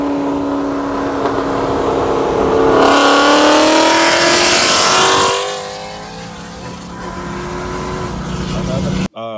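A 2018 Ford Mustang GT engine revs loudly up close, surging and climbing in pitch for several seconds before dropping back to a lower, steadier drone.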